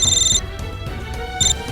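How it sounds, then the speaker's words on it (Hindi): A telephone rings with an incoming call during a police crime drama scene: two loud, bright electronic ring bursts separated by a pause, with no talking. "इन्फॉर्मर का फोन था"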